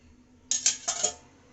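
A few plates and dishes clatter as they are gathered for washing in a small home kitchen, four quick clinking knocks close by in a quiet room.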